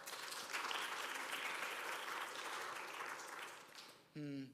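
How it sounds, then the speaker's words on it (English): Church congregation applauding during a worship service, a soft, even wash of clapping that holds steady for several seconds and then fades as a voice begins. "we give a round of applause to Carol?"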